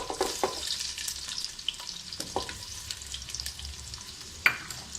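Garlic and ginger fry in a pan with a steady, soft crackling sizzle, broken by a few sharp stir clicks and spatters, fairly quiet and close with no talk.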